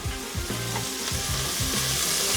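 Garlic sizzles in hot avocado oil for a Texas Red chili, a steady close crackling hiss over low stirring thumps, with no one talking.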